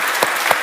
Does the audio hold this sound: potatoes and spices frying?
no